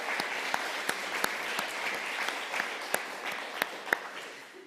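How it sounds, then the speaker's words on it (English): An audience at a public conversation about homelessness gives sustained applause, many hands clapping in a dense, even wash with a few sharper individual claps standing out, fading gently toward the end. "let's clap for that"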